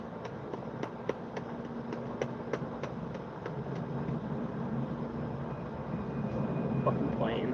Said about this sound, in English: Fucking plane.